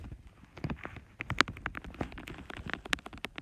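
Rocket Rain super attack in Brawl Stars: a rapid barrage of sharp clattering impacts and small explosions, irregular and dense over several seconds, heard at game volume.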